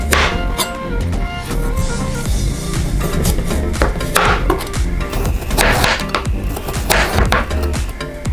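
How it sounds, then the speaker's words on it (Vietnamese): A knife chops sweet potato into small pieces on a wooden cutting board, sharp repeated knocks in an uneven rhythm, close and clear over light background music. "Đầu tiên khoai lang mình rửa sạch rồi cắt thành từng miếng nhỏ."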